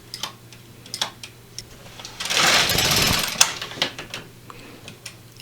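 An LK150 knitting machine carriage sweeps across a slip stitch row, a steady mechanical whir and rasp in the middle of the clip, framed by scattered clicks and taps of needles and carriage parts before and after.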